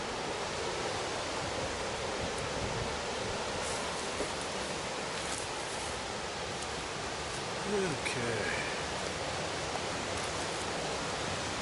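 A river rushes loudly as a dense, constant roar that stays close and even, with someone speaking briefly over it.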